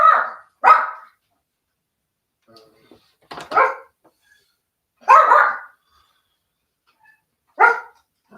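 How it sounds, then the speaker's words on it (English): Dogs bark in short, loud bursts, a pair of quick barks followed by several more single barks spaced a second or two apart, with quiet gaps between them. "I'm sorry about the dogs barking"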